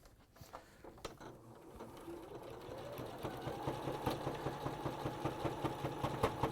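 A sewing machine works a satin stitch, pattern number 77, in a quick rhythmic chatter that starts softly and grows steadier and louder, each needle pass ticking out clearly with no talk over it.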